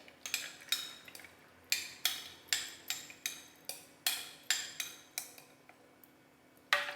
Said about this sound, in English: And stir them well.